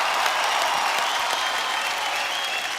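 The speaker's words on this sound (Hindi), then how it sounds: "एक बार आप सबके लिए जोरदार तालियां हो जाए।" A large studio audience at a comedy talk show bursts into steady, loud applause, a dense unbroken wash of clapping lasting the whole stretch with no pauses and no voices on top.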